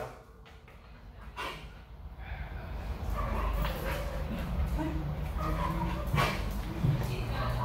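An 11-month-old leash-reactive dog barks and yips at another dog approaching too close, short sharp outbursts near the start and end over a steady outdoor background with some talk.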